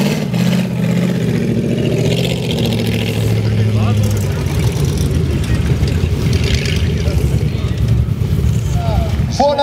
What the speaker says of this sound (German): Das, was Sie da gerade gehört haben, das war die Zündung, die hier in das Mikrofon hineingeballert hat.